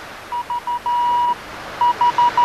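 Morse code radio beeps, a single steady tone keyed in short dots and one long dash, then a further run of short pulses after a pause, clear and close.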